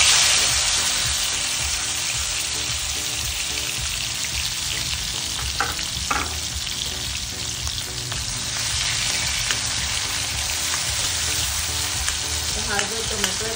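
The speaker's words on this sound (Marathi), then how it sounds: "तर आता आपण बघू शकतो की तेल चांगलं तापलेलं आहे। तर आता आपण ह्याच्यामध्ये आपण टोमॅटो" Tomatoes fry in hot oil for a spiced black pea curry, giving a loud, steady sizzle throughout with occasional stirring clinks, no voices over it.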